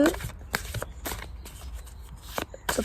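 Tarot cards are shuffled in a fortune-telling reading, with repeated crisp riffling bursts at a steady rhythm, close by, alongside quieter background noise.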